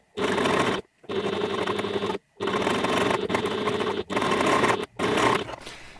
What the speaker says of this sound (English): I'm just going to take this to the machine and I'm going to baste this on close to the edge